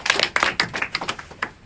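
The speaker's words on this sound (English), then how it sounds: "I get some claps and applause from" Scattered audience clapping at a university speech: a short burst of a dozen or so uneven, sharp hand claps that thin out quickly, with no voices over them.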